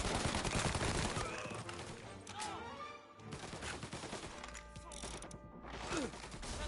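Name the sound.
gunfire in the video game Mafia Definitive Edition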